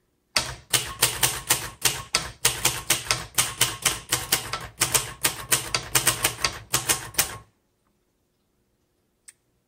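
A 1960s Royal Safari typewriter is typed on in a rapid, even run of crisp key strikes lasting about seven seconds, then stops, leaving near silence with a couple of faint clicks.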